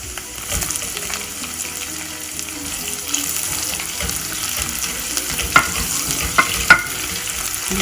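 Onions fry in a pan for Filipino kare kare with oxtail, making a continuous close sizzle. A few louder clatters of stirring come near the end.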